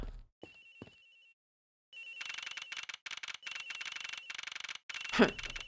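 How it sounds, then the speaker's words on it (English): Telephone ringing in the Ace Attorney Investigations: Miles Edgeworth video game, an electronic trill that sounds briefly, pauses, then rings in repeated bursts at steady volume, with a sharp chime near the end. "Agent Hicks's phone! It's ringing from somewhere, sir."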